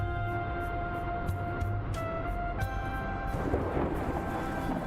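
Steady rain with rolling thunder in Dustland Delivery, a continuous hiss over low rumbles, with faint repeated game interface ticks along the top.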